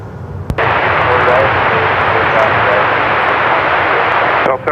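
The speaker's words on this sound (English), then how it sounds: "runway 34 right, cleared for takeoff." An airplane takes off from runway 34 right at Seattle-Tacoma International Airport, its engine roar loud and steady from start to finish, with a brief thump near the start and radio chatter from the tower underneath.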